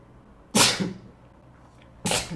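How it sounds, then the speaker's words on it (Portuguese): Two sharp sneezes from a person with a cold during a live SMITE game session, loud and close, about a second and a half apart with quiet between. "Nossa, eu vou espirrar"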